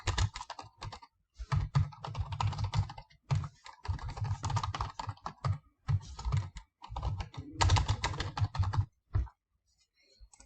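Bursts of rapid keystrokes clatter on a computer keyboard close up, typing fast in separate runs split by short pauses, with no one speaking.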